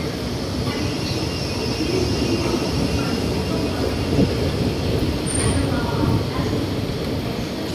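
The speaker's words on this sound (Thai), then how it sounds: "รถไฟฟ้ามาพอดีเลยนะฮะทุกคน" A Bangkok Yellow Line electric monorail train arriving at an elevated station platform, a steady rumbling roll with a brief high squeal midway, heard over platform ambience.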